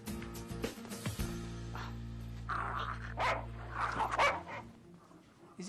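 A dog barks and yips in an excited, agitated way, several sharp barks near the start followed by whimpers and a steady hum, with people talking over it.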